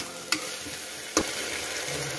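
Rice sautéed in oil in a pressure cooker for sakranti bhogi thali: a soft continuous sizzle broken by two sharp scraping knocks of a spoon against the cooker, close by.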